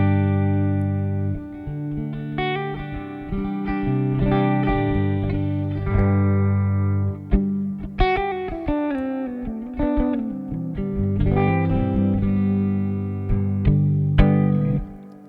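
An electric guitar strums a series of ringing chords through a clean, edge-of-breakup HX Stomp preset, each left to hang and fade into a wash of reverb, played alone and fairly loud.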